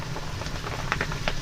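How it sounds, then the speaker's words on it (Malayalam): Heavy rain pours steadily around a vehicle in the Ooty hills, a dense continuous hiss with scattered sharper drop impacts, close and fairly loud throughout. "നല്ല മഴയുണ്ട്, വണ്ടിയിൽ നിന്ന് ഇറങ്ങാൻ കഴിയില്ല"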